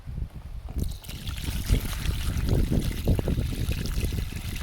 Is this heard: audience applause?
no